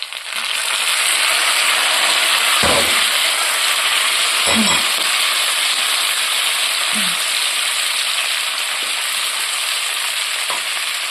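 Onion and tomato cooking in a hot pan give a continuous loud sizzling hiss, broken by a few sharp clinks and scrapes of stirring, close up and with no one speaking.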